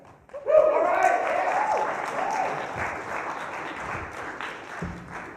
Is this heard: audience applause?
yes